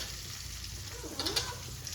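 Green chilies and cumin frying in hot oil with hing, a steady broadband sizzle with a few brief louder crackles partway through, no talking.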